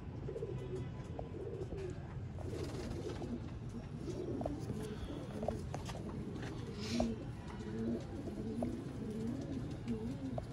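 Sialkoti pigeons of breeder pairs coo softly and repeatedly at a loft, with low rolling calls over a steady background murmur and faint distant voices.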